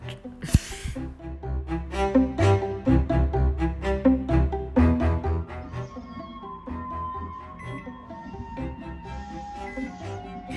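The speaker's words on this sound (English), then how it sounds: "You can hear some religious songs playing in the background" Devotional singing with steady melodic accompaniment plays at moderate level, then fades to a quieter sustained tone with faint background noises.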